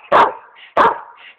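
A pet dog indoors near a bed lets out two loud, close barks about half a second apart, each followed by a softer whine-like tail, with no talk over them.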